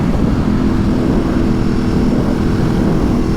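Strong wind blowing outdoors on a chilly day, a loud steady roar buffeting close to the microphone without pause and with no talking.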